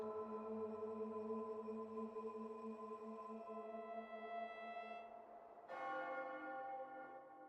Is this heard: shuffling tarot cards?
no